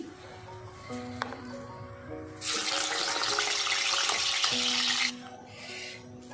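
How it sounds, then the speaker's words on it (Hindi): Cubes of store-bought paneer fry in a frying pan with a steady, fairly loud sizzle that swells midway, joined by a few light utensil clinks and faint background hum. "हम फ्राई पैन में भी रख के तल रहे हैं"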